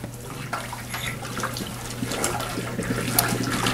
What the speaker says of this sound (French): il suffit tout simplement de retirer l'eau bouillante de la bouteille